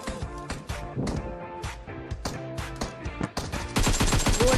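PUBG Mobile gunfire crackles in rapid automatic bursts. Sharp, loud shots are packed close together, growing denser and louder near the end.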